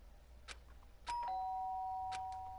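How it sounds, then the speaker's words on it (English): Doorbell in the video game Danganronpa Trigger Happy Havoc: a clear electronic two-tone chime that rings out and sustains, heard alone after a few soft taps. "did I hear the doorbell?"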